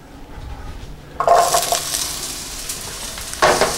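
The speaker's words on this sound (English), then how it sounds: "I'm going to put in the onions first." Onions dropped into olive oil in a skillet over medium heat: quiet at first, then an abrupt loud hiss of frying that settles into a steady close sizzle, with a second flare near the end.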